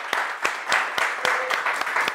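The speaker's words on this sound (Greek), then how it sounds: "Ένα χειροκρότημα!" Live audience applauding at a Greek glam talk show, a string of sharp claps and bursts rising and falling over about two seconds, fairly close and steady, with no voices over it.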